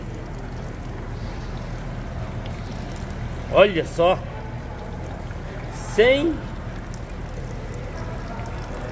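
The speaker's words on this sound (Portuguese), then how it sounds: "olha a água que tá saindo aqui agora" Steady flowing water from the radiator of a Chevrolet S10 pickup whose cooling system is contaminated with engine oil, running continuously under two short spoken bursts.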